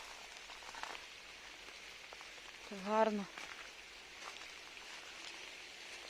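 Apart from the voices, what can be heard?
rain falling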